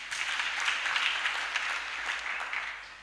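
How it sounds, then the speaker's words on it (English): A church congregation claps together in the sanctuary, a steady and fairly loud wash of applause that holds evenly from start to finish with no talking over it. "Clap for yourselves."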